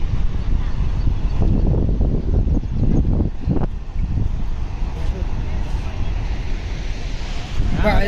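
Floodwater rushes through Dharoi dam in Gujarat in a loud, steady roar mixed with wind buffeting the microphone, while people talk over the continuous torrent.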